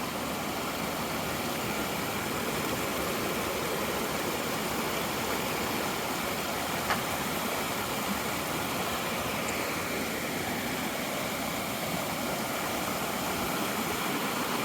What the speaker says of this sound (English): this is Spade Creek. It's probably pretty cold. It's moving pretty well.